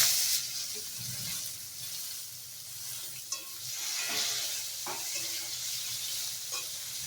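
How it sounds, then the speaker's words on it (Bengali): Vegetables fried in a pan hiss with a soft, continuous sizzle while a spatula scrapes and taps through them every second or so, close by and with no voices. "এগুলো ভালো করে নাড়াচাড়া দিয়ে ভেজে নেব।"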